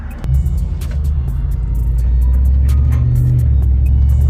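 A Ford F150 5.0 V8 pickup with a muffler delete drives steadily, giving a loud, continuous low exhaust rumble heard close up from inside the cab, with a few faint ticks and clicks on top.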